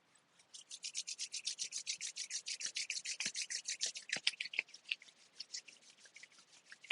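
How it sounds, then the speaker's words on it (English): Palms rubbing briskly together during a lunar-cycle yoga practice, a steady run of close, dry swishing strokes that speeds up and then slows and softens toward the end, with no talking. "And then rub your hands together."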